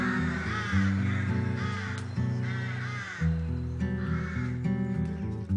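Crows caw in Montmartre Cemetery in repeated harsh calls, several spaced bursts from fairly close over a quiet background.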